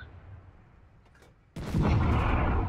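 After a quiet low rumble, a tank's main gun fires once in a tank video game, a sudden heavy boom followed by a loud, sustained rolling roar.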